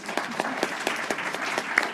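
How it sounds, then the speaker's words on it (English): Audience members at a mayoral candidate forum applaud, a moderate crowd clapping in a continuous patter with a few sharper individual claps standing out. "I want you guys to give yourselves a round of applause, please"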